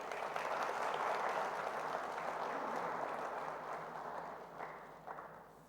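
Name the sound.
applause for a panelist coming on stage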